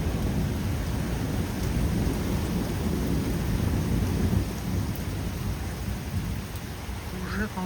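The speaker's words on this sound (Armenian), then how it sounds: "Ուժեղ անձրև" Heavy rain pours steadily with deep rolling thunder rumbling throughout, a dense, loud storm wash filling the scene and no voices heard.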